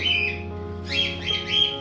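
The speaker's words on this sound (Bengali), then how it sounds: "এই যে আমার আলাদা করে রাখা যে পাখিগুলো" Pet birds squawk in short harsh bursts close by, several calls in quick succession over a low steady hum.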